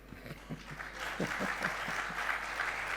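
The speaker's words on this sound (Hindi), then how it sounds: "ताली बजा रहे तो ईमानदारी से बजा लिया करो।" Scattered, sparse clapping from a pravachan audience rises into steadier applause at moderate distance, with faint low voices underneath.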